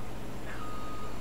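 A truck reversing in the video game Farming Simulator 17, giving off a steady electronic backup beep over a constant low engine drone, with no talk.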